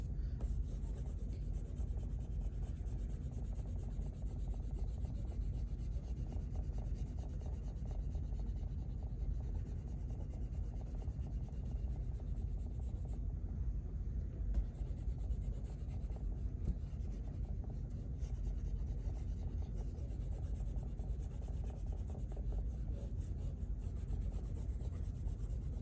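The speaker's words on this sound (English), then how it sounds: "I'm going to erase my outline so they're just light enough that I can still see them" A pencil eraser lightly rubs over a sketch outline on watercolor paper, a soft, continuous close-up scrubbing rasp with steady back-and-forth texture and no talking.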